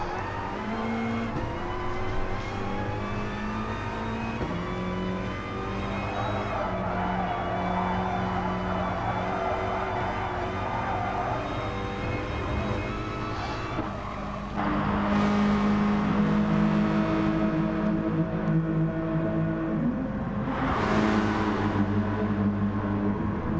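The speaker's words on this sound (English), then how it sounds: "Mike is so quick in that VW Scirocco" A VW Scirocco race car engine in a racing game at Autopolis, held at a steady high drone with shifting pitch and rising revs partway through, continuous and close, with other cars in the background.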